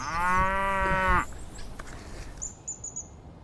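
A cow lets out a long, loud moo nearby, then it fades into background noise with faint chirps.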